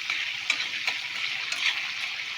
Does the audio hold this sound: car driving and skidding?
no